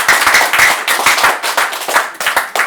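People at a Buddhist temple sermon clap loudly in a choppy, uneven burst of applause, individual hand claps sharp and close, with the rhythm surging and dipping in short waves.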